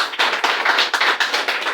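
Steady applause from an audience at a ceremony honoring named individuals, many hands clapping together in a dense, continuous patter that swells slightly in short waves throughout.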